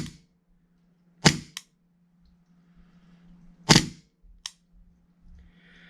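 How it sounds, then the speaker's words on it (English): Elite Force M9 airsoft pistol dry-firing: two sharp, loud snapping shots a couple of seconds apart, each followed by a quick metallic click, over a low steady hum and faint handling noise. "So we're gonna go ahead and just fire off a few dry fire."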